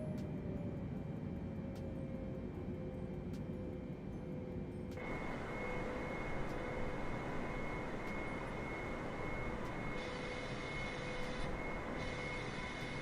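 Boeing airliner engines in Microsoft Flight Simulator 2020 drone as a smooth, steady whine and rumble. The tone steps up noticeably partway through as the throttle changes, with no talking.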